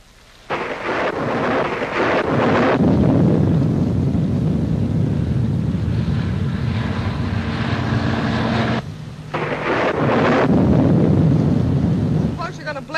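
Thunder rumbles loud and near through a thunderstorm with wind gusts and rain, cutting out briefly near the end before the roar resumes.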